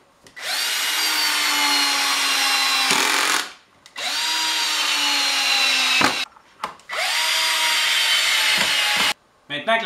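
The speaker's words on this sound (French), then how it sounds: "c'est le temps de visser." Power screwdriver driving screws into wood while assembling the base of a coffee table, three sustained whirring bursts of a few seconds each with brief pauses between, loud and close.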